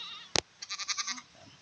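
A goat on a farm lets out a quavering bleat, a rapid pulsing cry of about six beats, just after a sharp click, with faint background noise.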